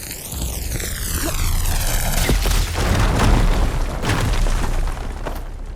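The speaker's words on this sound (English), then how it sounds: "Should be able to blow up that fire gleam." A fire gleam blows up in Horizon Forbidden West, a loud booming blast with a long rumbling, crackling tail that rolls on for several seconds, after a brief rising whoosh.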